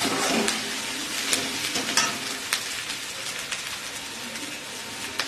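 Ginger and garlic paste sautéing in hot oil in a pan for a pomfret fish curry. A steady, close sizzle with scattered sharp pops and crackles runs throughout, with no talking.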